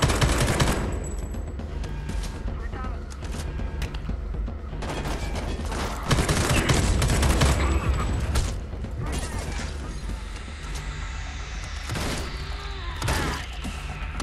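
Gunfire rattles through a firefight in the Homefront: The Revolution video game, with dense automatic bursts and single shots mixed with mechanical clanks and impacts. The volume stays moderate and unbroken for the whole stretch.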